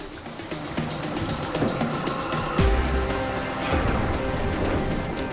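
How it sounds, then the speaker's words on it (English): Steady rain pours down heavily, a constant hiss of drops on surfaces, with low rumbles underneath. "More rain coming."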